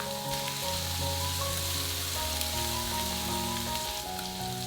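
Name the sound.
ginger, garlic and green garlic stir-frying in hot rapeseed oil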